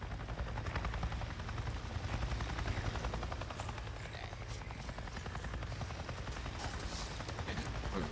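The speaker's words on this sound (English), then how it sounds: "I just saw a goddamn chopper!" Helicopter in the video game Days Gone passing overhead, a loud, steady rotor chop and engine drone filling the scene throughout with no speech.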